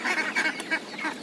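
Ducklings and ducks kept as backyard poultry give a run of repeated honking quacks at close range, several calls in quick succession with no talk over them.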